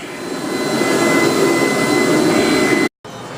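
A vacuum cleaner runs on a floor with a loud, steady whining roar close by, cutting out abruptly for a split second near the end before resuming.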